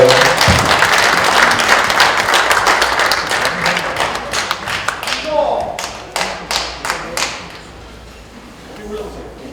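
Audience applause at a book-launch talk concert, a dense burst of clapping that thins into scattered, separate claps toward the end, with talk over it.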